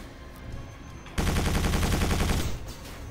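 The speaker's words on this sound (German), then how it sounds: "Dinge kaputt schießen." Sustained rapid gunfire from shooting things in the video game Quake 4, a loud continuous burst lasting over a second after a quieter lead-in, then cutting back to low background.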